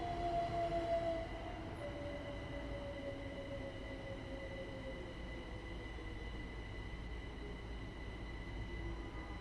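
A Class 377 electric train in Train Sim World 5 slows for a red signal, its steady rumble and rail noise running throughout with a descending whine from the traction motors as speed drops, and no talk.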